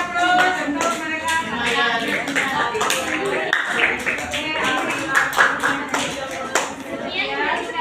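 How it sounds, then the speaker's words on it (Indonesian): Classroom audience applause after a student group presentation, with many hands clapping unevenly and loud nearby, mixed with children's voices talking throughout. "Ayo berikan aplaus untuk mereka."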